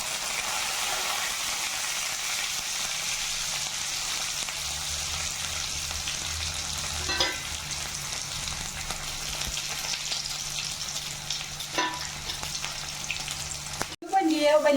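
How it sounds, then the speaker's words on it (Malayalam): Continuous sizzling and crackle of sliced onion sautéing in hot oil with mustard seeds, urad dal, curry leaves, ginger and green chili, with occasional stirring scrapes close by. "വലിയ വലിപ്പമുള്ള സൈസ് സവാള കട്ട് ചെയ്തതും കൂടെ കൂട്ടിയിട്ട് ഞാൻ നന്നായിട്ട് വഴറ്റാൻ പോവുകയാണ്"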